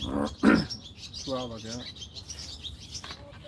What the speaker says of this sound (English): See, there's that bird that was making the clicker sound.